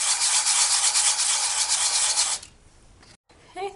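A polymer clay piece rubbed with 80 grit sandpaper, a steady, close scratchy rasping that stops after about two and a half seconds, followed by a brief faint scuff.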